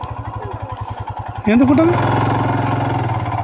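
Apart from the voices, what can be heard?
motorcycle engine idling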